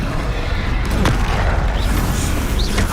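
The Confringo blasting spell in Hogwarts Legacy gameplay sets off a loud, booming explosion with a heavy rumbling low end and crackling debris, in the midst of continuous combat sounds.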